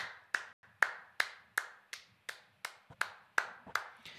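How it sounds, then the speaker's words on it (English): A coach at a Counter-Strike esports match claps his hands about a dozen times in a quick, steady rhythm, each sharp clap close and distinct with no talk. "That's the coaching clap."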